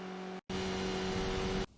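A Skip Barber race car in iRacing holds 4th gear at high revs uphill at Watkins Glen, a loud steady engine drone broken by one brief gap, then cutting off abruptly.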